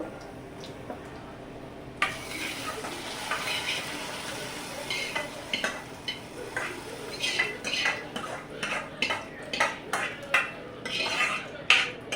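Hot tempering is tipped into a pan of lentil curry and stirred, a soft sizzle under repeated scraping and clinking of a spoon against the pot, close and irregular.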